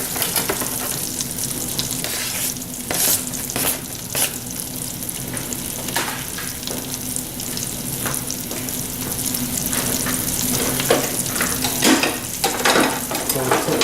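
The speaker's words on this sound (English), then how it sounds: "Go ahead and put the onions in there." Onions fry and are stirred in a pan, with a continuous sizzle and repeated scraping and clattering stirring strokes throughout, fairly close.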